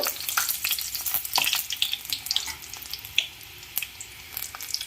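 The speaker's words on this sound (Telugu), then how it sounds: "కొద్దిగా కరివేపాకు కూడా ఇందులో వేసుకొని వేయించుకుంటున్నాను చూడండి" Garlic, dried red chillies, seasoning seeds, onion, green chilli and curry leaves fry in a little hot oil, giving a steady close crackling sizzle with scattered pops and the scrape of stirring throughout.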